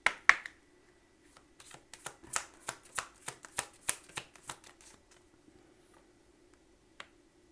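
Oracle cards are shuffled by hand in a quiet room, a run of crisp, rhythmic riffling flicks repeating about a dozen times, close and clear, followed by a few stray taps.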